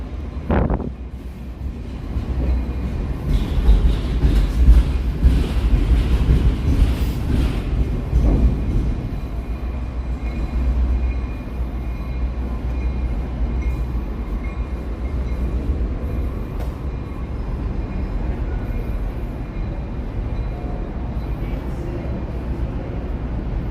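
A Metro train rumbles along elevated tracks overhead on Fulton Street near Canal in Chicago, a loud low roar that swells over the first ten seconds, then settles into steady city and wind noise.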